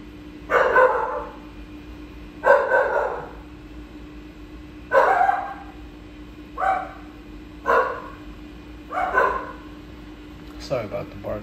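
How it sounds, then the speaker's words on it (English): A dog barks indoors in a series of about six loud, separate barks spaced a second or two apart, over a steady low hum of a fish tank, with a short scuffle at the end. "Sorry about the barking."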